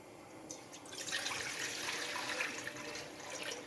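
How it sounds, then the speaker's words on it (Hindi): A steady stream of water pours into a kadhai on a gas stove, splashing continuously at close range with a bright, hissing texture. "और लीटर पानी डाल दिया है"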